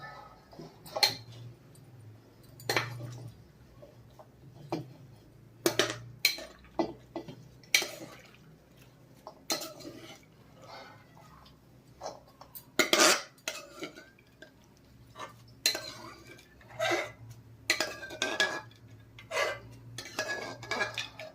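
Broad bean batter is mixed by hand in a bowl for steamed dumplings, giving sparse, irregular clinks and taps of a utensil against the bowl with soft wet stirring between them.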